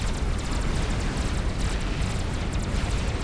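A Tech 3 power plant explodes in the strategy game Supreme Commander, a dense roaring, crackling blast rumble that stays loud and continuous throughout.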